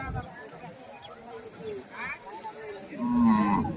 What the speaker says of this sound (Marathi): कोणाचे आहेत गावरान बैल